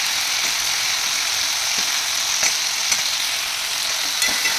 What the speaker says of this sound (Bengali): আলুগুলো এর সাথে ভালো করে কষা